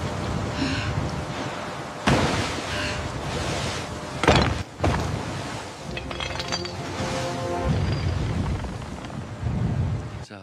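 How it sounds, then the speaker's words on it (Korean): Storm waves surging at sea, played back from a video into a room: a continuous rough roar of wind and water with several sharp crashing bursts and thuds, loud and close throughout. "폭풍가 칠때 파도가 밀려옵니다."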